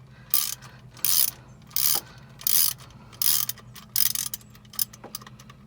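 Ratchet wrench with a 10mm socket loosening cover screws while replacing a neutral switch on a 2005 Honda Odyssey, seven rapid clicking ratchet bursts in a steady back-and-forth rhythm, close up over a low background hum.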